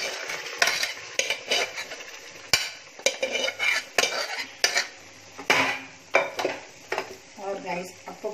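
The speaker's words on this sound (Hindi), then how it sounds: "ये मेरी मसूर की दाल पक गई है और इसको मैं डाल देती हूँ इसके अंदर।" Cooked masoor dal is tipped into a pan and stirred in a home kitchen: repeated metal spoon scrapes and clanks against the pan over a light sizzle, close and fairly loud, in irregular bursts.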